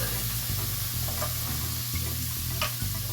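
Tomato paste sizzles steadily in a pan for a Haitian-style smothered turkey, with a rhythmic scraping stir repeating about every half second, close and constant, and no talking.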